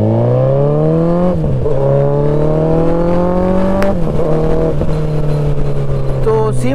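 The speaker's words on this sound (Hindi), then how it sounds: "देखो भाई फुल थ्रॉटल पे हायाबूसा भगा के दिखाता हूँ" A Suzuki Hayabusa in C mode accelerates hard at full throttle, its engine whine rising steeply through several gear changes with brief dips between shifts, loud and close, with wind noise and a voice faintly underneath.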